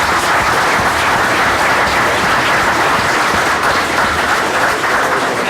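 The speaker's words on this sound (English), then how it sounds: "And a round of applause for our police officers in the back who came to show their respect." A room at a meeting breaks into steady applause for police officers standing at the back, a continuous, evenly loud patter of many hands with no talking over it.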